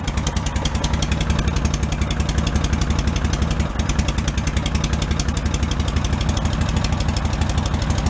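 A Cushman Meter Maid with a custom exhaust idles steadily and loudly up close, its fast even putter unbroken for several seconds with no voices.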